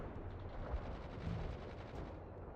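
Heavy artillery barrage in a military strategy video game, a dense continuous rumble of overlapping blasts and booms at steady loudness, with a few heavier thumps standing out, no talk.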